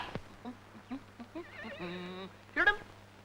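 Horses give a long, quavering whinny, flanked by a few scattered clip-clops of hooves and a short snort or second call at the end, fairly close but soft over a quiet, low background hum.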